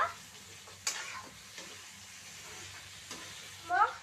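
Chicken pieces and onion fry in a pan with oil, giving a soft, steady sizzle and scraping stirs, with a brief louder clatter near the end.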